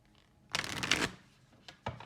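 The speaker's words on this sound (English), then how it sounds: "I just decided to like do a full shuffle again to pull another one" Tarot cards being shuffled as a full deck: a dense, riffling burst of papery flutter near the mic, followed after a pause by two shorter shuffling flicks.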